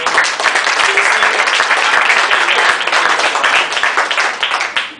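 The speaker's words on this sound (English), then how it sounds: "I just want to give a big round of applause to Nick and Anton back in the room" A room of creative people gives a big round of applause at an ideas event in Los Angeles, a loud dense burst of clapping that holds steady and then tapers off at the end.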